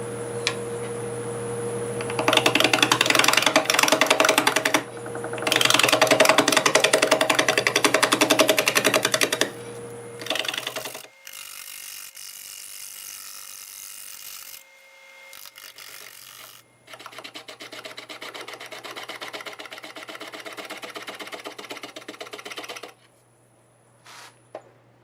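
A half-inch bowl gouge cuts apple tree wood spinning on a lathe at 650 RPM, giving loud sustained scraping bursts over a steady low motor hum, then quieter, thinner cutting passes.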